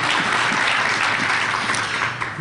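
Audience applause at a skeptics' conference talk, a dense and steady wash of many hands clapping at close range for the whole stretch with no voices over it.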